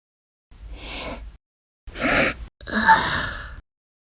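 Three stifled sneeze bursts from a voiced Sonic character, each a breathy, held-back puff with a short pause between them, close and fairly loud with no other sound around them.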